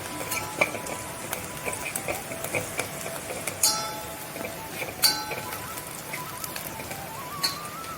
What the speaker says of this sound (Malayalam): ഉള്ളി നന്നായിട്ട് മൂട്ടി വരുന്നുണ്ട്.